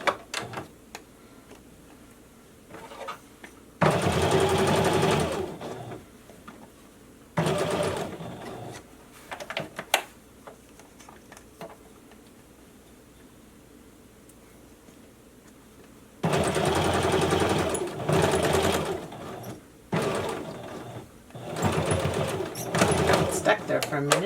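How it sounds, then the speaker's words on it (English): A sewing machine running a basting stitch to secure fabric for a summer face mask with a filter pocket, in several bursts of rapid, steady mechanical stitching separated by pauses filled with quiet handling sounds. "I'm going to do a basting stitch on this just to make sure I have it secured down."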